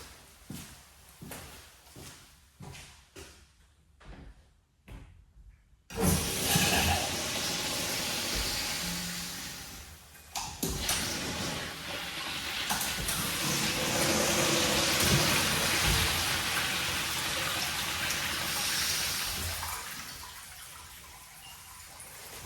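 Water suddenly gushes on after a few soft knocks, then a loud steady rushing spray continues, surging and hissing, with no talking.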